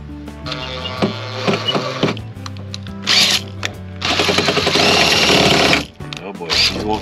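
A drill driving a hole saw through the sheet-metal body of a 2002 Chevy Tahoe: sustained grinding, whining bursts that rise and fall across several seconds, loud and close, with brief gaps between cutting passes.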